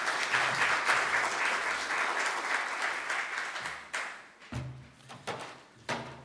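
Audience applause welcoming Dr. Craig Blomberg to a seminar, a dense sustained wave of clapping that fades out around the middle, followed by a few scattered thuds and taps near the microphone.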